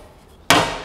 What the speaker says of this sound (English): I use the other hammer.